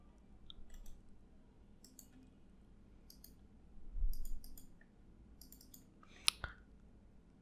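A handful of faint, sharp computer mouse clicks scattered across a quiet room while building PowerPoint slides, with a louder single click near the end and no talking.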